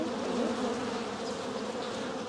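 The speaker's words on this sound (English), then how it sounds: "So they're getting a little excited because we just opened up their hive" Honeybees buzzing in an opened hive, a dense, steady hum of many bees close by with no voices.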